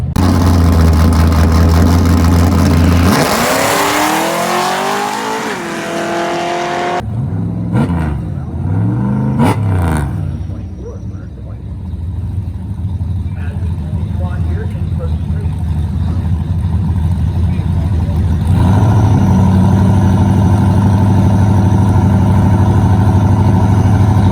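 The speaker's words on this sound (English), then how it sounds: "Zach Wolf coming up, he's got the 63 Plymouth. Gonna pick out the little Mustang, looks like" Drag race at Cecil County Dragway between a 1963 Plymouth and a Mustang: loud engines idle, then rev hard with rising, sweeping pitch as the cars launch, and a heavy engine rumble carries on to the end.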